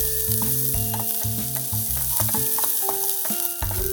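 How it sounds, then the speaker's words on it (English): Steady sizzling of onions frying in a pan, with background music notes playing over the continuous crackle. "Add onions to the frying pan and fry them."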